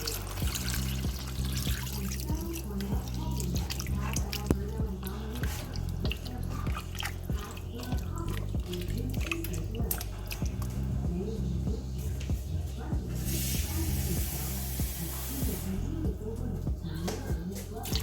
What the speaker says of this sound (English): Now before we add water, I'm just going to stir it.